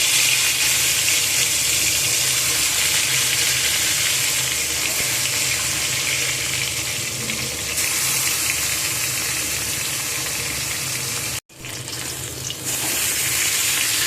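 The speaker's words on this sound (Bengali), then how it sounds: "কড়াতে তেল গরম বসিয়ে দিয়েছি এবারে একে একে মাছগুলো দিয়ে দেব" Pieces of fish sizzle steadily in hot oil in a kitchen pan, a loud, dense crackling hiss that carries on almost unbroken, with one brief dip near the end before it resumes.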